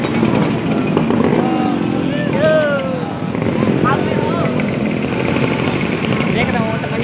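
A Vespa scooter engine drones steadily on a road ride among other Vespa riders and police escorts, with wind noise and voices talking over it throughout.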